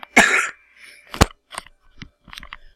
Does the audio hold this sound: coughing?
yes